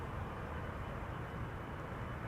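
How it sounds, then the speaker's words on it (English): An Airbus A319 airliner on British Airways' flight from London Heathrow arrives at Schiphol Airport, a 22-year-old airframe. Its steady, loud broadband jet roar and low rumble hold without a break and with no voices. "BA flight 430 up first, A319, arriving from London Heathrow, 37 minutes underway."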